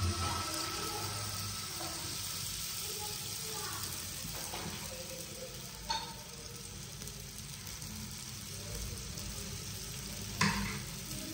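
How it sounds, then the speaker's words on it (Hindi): Paratha batter sizzles in a little oil on a hot tawa griddle, a steady broadband frying hiss throughout, with a few brief louder clinks or scrapes near the middle and end. "तवा हमारा गर्म हो गया और तवे पे हमने डाल लिया थोड़ा सा ऑयल। अब डाल लेते हैं अपना मटेरियल जो हमने भी बनाया है"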